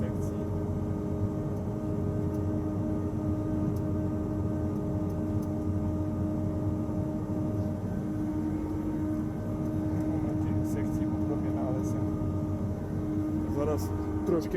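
A tractor pulls a seed drill through a field, its tank loaded with fertilizer and wheat seed. A steady, close engine drone runs the whole time, with a faint voice now and then under it.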